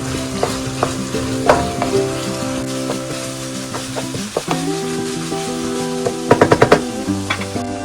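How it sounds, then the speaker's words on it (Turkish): Minced meat frying in a pan with garlic, onion and green peppers for Kayseri yağlaması, a close crackling sizzle broken by repeated spoon clinks and scrapes, with a quick run of taps near the end. "Kavrulan kıymamıza 3 adet sarımsak, 1 adet kuru soğan ve 3 adet yeşil biberimizi de ekleyip kavurmaya devam ediyoruz bu şekilde"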